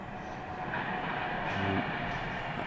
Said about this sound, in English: That bloody train again.